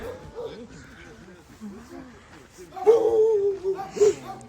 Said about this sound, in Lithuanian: Beglobiukai, šuniukai, vargšiukai.